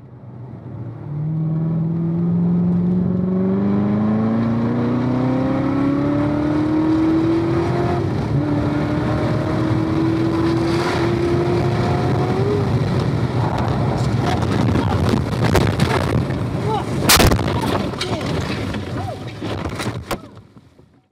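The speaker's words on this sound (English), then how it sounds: "you hear the rear tires spin up cresting the hill there on the bridge straight" A Chevrolet Corvette ZR1 on the Shenandoah track climbs through the revs with heavy wind buffeting. The engine note suddenly jumps as the rear tires spin up, followed by harsh, chaotic bangs and scraping of a crash near the end.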